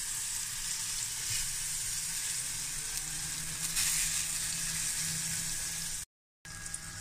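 Boletus porosporus mushrooms fry in a pan with a bright, continuous close sizzle that swells briefly midway, cut by a short silent gap near the end.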